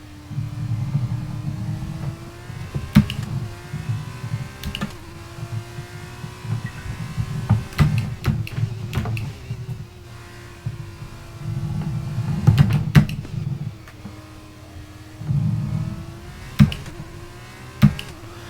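F2 race car engine in the F1 22 video game at the French circuit, a steady droning whine with low rumble running through the whole stretch, punctuated by sharp clicks and brief surges, alone without talk.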